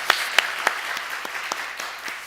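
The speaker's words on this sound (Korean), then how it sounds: "다시 한번 박수 한번 하겠습니다." A small Methodist church congregation claps after an accordion hymn performance by the emeritus pastor: a few loud, separate claps open, then the clapping thins into sparse, quieter strikes.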